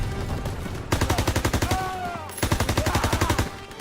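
Sustained automatic gunfire and rifle bursts rattle through a World War II battle in the Call of Duty WW2 video game, loud and dense in two long strafing runs over a noisy background.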